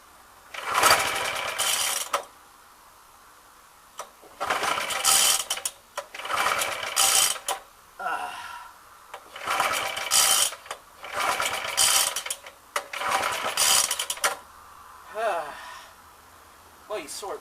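A Suffolk lawnmower engine fires in repeated short bursts of rapid mechanical chatter, each lasting about a second or two. Quiet gaps separate the bursts, and people talk in between.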